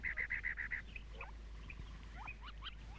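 A cactus wren calls in desert cactus country, its nest set among teddy bear cholla spines: a fast run of about six harsh, even chattering notes up front, then quieter scattered chirps from other birds.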